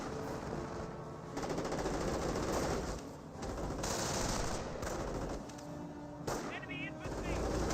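Dense, sustained machine-gun and rifle fire raking a rifle squad in the World War II strategy game Company of Heroes, loud and continuous with bursts and explosions, a voice talking underneath.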